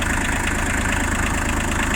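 Shibaura P21F Japanese four-wheel-drive tractor engine idling, a steady even low chug with regular pulses, close and continuous with no talk over it.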